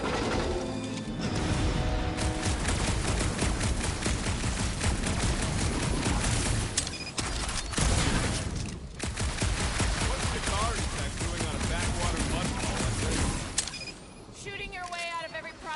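Guardians of the Galaxy gunfire erupts in dense, loud bursts of blaster-like shots and crashes over an action score, continuous for most of the stretch before easing off near the end.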